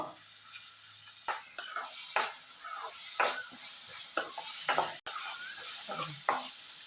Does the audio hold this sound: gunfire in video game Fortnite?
no